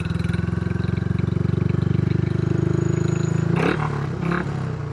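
A Royal Enfield motorcycle engine idles with a deep, steady throbbing exhaust note, then a brief clatter breaks in near the end.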